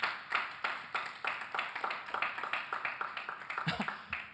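Clapping from a church congregation during a sermon, a rhythmic run of sharp, distinct claps repeating at a steady pace, moderately close and somewhat quiet, with a brief low voice near the end.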